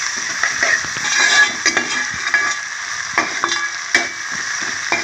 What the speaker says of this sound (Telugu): కొద్దిగా అల్లం వెల్లుల్లి పేస్ట్ వేసుకున్నాను ఇది కొద్దిగా ఫ్రై అవ్వాలన్నమాట పచ్చి వస్తుంది వరకు ఫ్రై చేస్తున్నాం